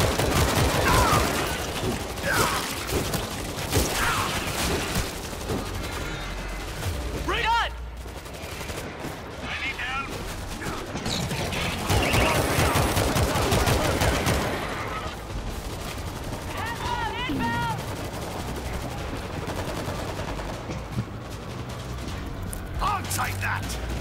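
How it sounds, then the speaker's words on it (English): Rapid automatic gunfire from a deployed auto turret in the zombie shooter World War Z, in the Jerusalem chapter, runs in dense bursts through the whole stretch amid game noise, with players talking and shouting over it. "I got an auto turret!"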